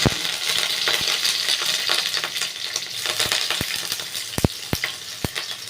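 Nigella seeds and curry leaves sizzling in hot oil, a bright continuous frying hiss broken by sharp pops and clinks of a spoon stirring, growing spikier toward the end.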